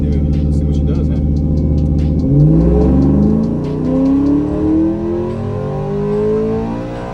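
A 2022 Ford F-150 engine built to around 950 horsepower revs hard on a dyno, its loud roaring note climbing steadily in pitch as it pulls up through the rev range, close and continuous.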